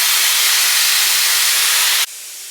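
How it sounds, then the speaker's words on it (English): Compressed air blasts out of an air compressor tank during a blow-down, a loud, steady broadband hiss lasting about two seconds before cutting off abruptly to a quieter residual hiss. "I'm gonna empty my air tank so I can do a little project here."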